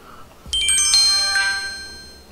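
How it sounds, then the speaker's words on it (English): A phone sounds its text message notification, a bright chiming series of ringing tones that starts abruptly and then decays slowly, heard clearly with no talking. "You have a text message."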